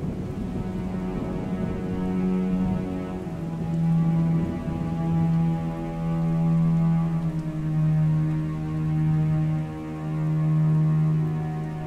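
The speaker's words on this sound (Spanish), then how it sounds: "se escucha como tormenta, como lluvia" Steady rain with a low stormy rumble from the video game A Normal Lost Phone, a continuous wash of drops over a droning tonal hum, moderately loud and unbroken for the whole stretch.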